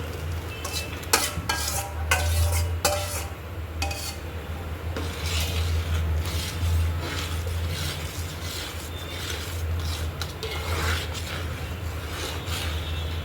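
Mawa being stirred and scraped in a pan while making laddu, with repeated metallic scrapes and clinks of a spoon against the pan over a soft sizzle and a low steady hum, no speech.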